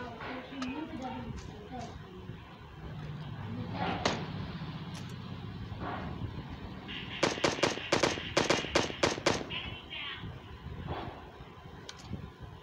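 Gunfire in PUBG Lite, a burst of sharp, rapid shots between about 7 and 9.5 seconds, with scattered single pops earlier. Game sounds and background noise run throughout, and players talk over them.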